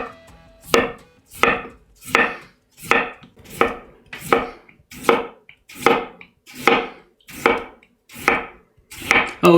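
A kitchen knife slicing potatoes about 1/8 inch thick for potato gratin, a steady series of about twelve crisp, evenly spaced chops on a board, close and loud with no talking.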